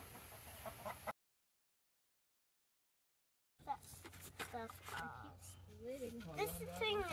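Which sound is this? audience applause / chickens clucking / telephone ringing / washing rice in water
chickens clucking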